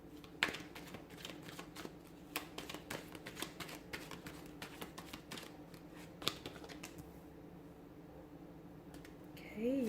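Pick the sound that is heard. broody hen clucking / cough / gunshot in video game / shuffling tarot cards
shuffling tarot cards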